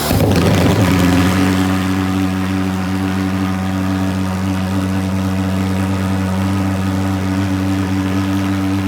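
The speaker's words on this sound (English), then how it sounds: "press C will begin the starting the engine" A fogger drone's engine starts with a sharp burst, then settles into a steady, loud, droning hum that runs on unbroken close by.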